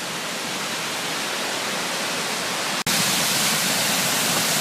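A rushing waterfall at Battlecreek Falls near Pleasant Grove, Utah, heavy with water in September, makes a loud, constant broadband roar that cuts out for an instant and returns slightly brighter.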